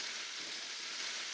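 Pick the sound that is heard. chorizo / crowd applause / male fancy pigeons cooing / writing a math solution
chorizo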